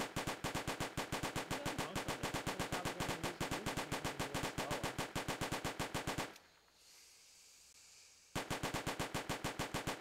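Rapid automatic gunfire from a video game in development, loud and steady bursts of evenly spaced shots for about six seconds, a two-second pause with low hum, then the firing resumes.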